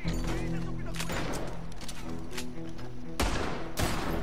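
A shotgun fires in Red Dead Redemption 2 with heavy booming blasts, spaced among other gunfire and game noise, and the loudest shots land near the end. No one talks over them.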